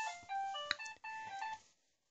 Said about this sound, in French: Vous aimez cette sonnerie, je le sais.